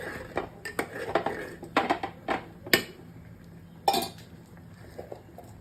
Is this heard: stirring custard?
yes